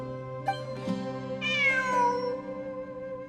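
A cat meows in an abandoned ruined building, one long wavering meow over a steady droning hum, with a few small clicks and knocks nearby.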